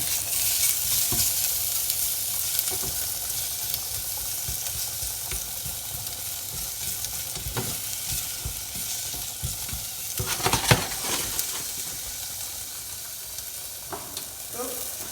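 Chopped shallots fry and hiss steadily in an oiled pan, with occasional scraping knocks as they are stirred, heard close up and fairly quiet without talk.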